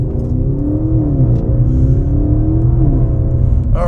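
A modified 2015 Audi S6 engine pulls hard in manual mode, a loud, throaty, steady drone from inside the cabin with rising and falling engine tones over about four seconds, capped by a brief shift near the end.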